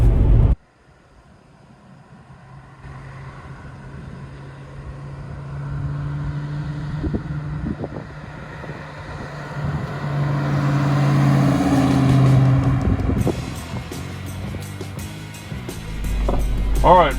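A 1993 SVT Mustang Cobra's V8 accelerates hard from a dig, the engine note rising steadily and loudly over about fifteen seconds before a shift, heard from inside the car with a brief voice near the start.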